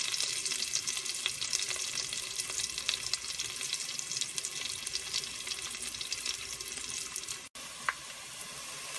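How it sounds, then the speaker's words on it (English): Sliced onions fry in a pan for a Bangladeshi wedding chicken pulao, giving a steady, close, dense sizzle with occasional stirring scrapes and one brief break near the end. "I'm going to cook these sliced onions until they are just maybe slightly brown in color"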